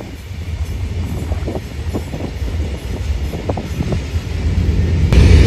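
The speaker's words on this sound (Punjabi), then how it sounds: "ਆ ਗਈ ਬਈ ਇੱਕ ਟ੍ਰੇਨ ਤਾਂ ਪਰ ਇਹ ਰੁਕਦੀ ਨਹੀਂ ਆ ਬਈ ਇੱਥੇ" A very long train rolls through a Mauritanian stop in the Sahara without stopping, its wagons clattering in a steady rhythmic clickety-clack under wind noise, growing louder and rumbling near the end.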